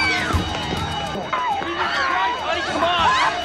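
Stock sound effect of a panicked crowd screaming over a fire alarm, a dense, continuous wash of overlapping shrieks and shouts that stays loud and close throughout.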